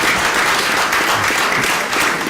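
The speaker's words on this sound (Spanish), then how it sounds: "yo pido que este agradecimiento sea sellado con un aplauso común" Sustained applause from an assembled audience at a formal Spanish-language ceremony of thanks, dense steady clapping filling the room without pause for a couple of seconds.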